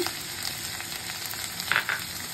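Chopped garlic and ginger frying in hot oil in a wok for chilli chicken, a steady close hiss with a brief louder sizzling burst near the end, no voices.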